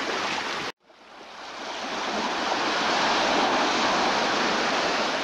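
Surf washing onto a Caribbean beach in the British Virgin Islands, a broad steady roar of breaking waves that cuts out briefly near the start, then swells back and holds loud and close with some wind.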